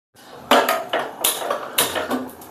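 A metal lid goes onto a cooking pot of rice with a series of close, sharp clanks and rattles, about five metallic knocks over a couple of seconds.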